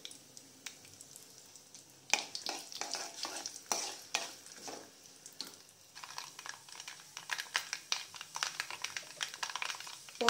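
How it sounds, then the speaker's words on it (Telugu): Tempering with broken dried red chillies frying in a pan for usthikaya pulusu, a close, quiet sizzle with rapid, irregular stirring clicks and scrapes of a spoon throughout. "పోపు వేగుతున్నప్పుడు"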